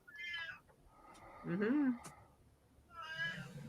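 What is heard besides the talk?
cat meowing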